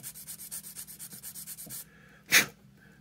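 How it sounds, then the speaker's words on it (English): A sanding stick rubbed back and forth over a jagged cut edge in a small craft build, about a dozen quick, even rasping strokes close up, then a pause and a single louder scrape. "try to sand this down nice and flat"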